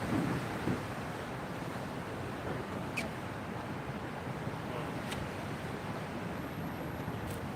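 Steady wind blows outdoors beside a river on a London street, a broad, unbroken roar like surf that holds constant throughout, with a few faint clicks and a thin distant tone near the end and no voices.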